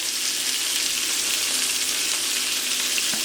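Wild Alaskan pollock fillets frying in butter in a pan over medium heat, a dense continuous sizzle and crackle heard up close without any talk.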